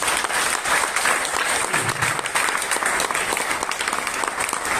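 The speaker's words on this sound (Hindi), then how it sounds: "जोरदार तालियां" A motivational MLM seminar audience gives loud applause, a thick, continuous wash of many hands clapping together at a steady level throughout.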